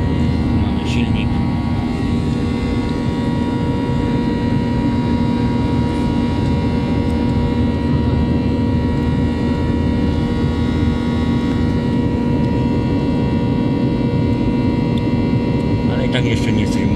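A passenger airliner's engines roar steadily in the cabin during a climb-out after takeoff on a flight to Greece, a loud constant drone with tonal hum throughout.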